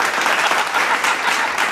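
Steady, dense audience applause at a comic poetry show on elections, continuous clapping from a sizable crowd throughout with no break.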